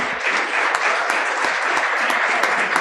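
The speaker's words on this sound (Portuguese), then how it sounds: "uma salva de palmas também." An audience at a joint workplace safety week event in 2025 claps steadily, dense, even applause filling the room at a constant level throughout.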